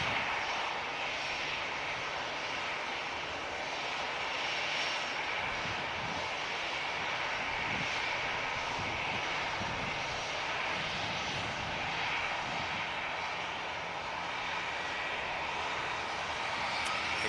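An aircraft engine roars steadily on the runway at Manchester Airport, a loud, sustained and fairly near drone that holds without a break.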